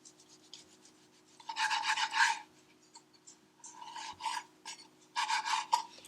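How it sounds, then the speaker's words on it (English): Knife slicing through stacked tortillas to cut them into chips, a dry rasping scrape in three bursts with quiet gaps between, close and moderately loud. "So we're going to cut right down the middle."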